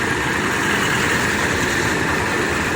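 A bus engine idles during air conditioner repair on a coach, a loud, continuous low rumbling drone that stays steady and close throughout with no talk.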